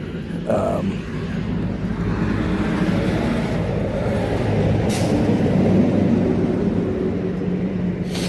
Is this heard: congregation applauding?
no